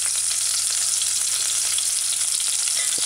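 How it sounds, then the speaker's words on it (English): Onions sautéing in a hot pan, a steady close sizzle with a constant bright hiss and faint crackles throughout, no talking. "Add your onions. Let it saute for a little while."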